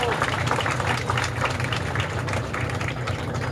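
Steady crowd applause for Manuel Orlando Pradilla at a political gathering in El Zulia, dense and continuous throughout over a low hum, with voices mixed in.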